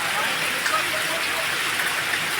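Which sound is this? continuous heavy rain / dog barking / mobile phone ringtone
continuous heavy rain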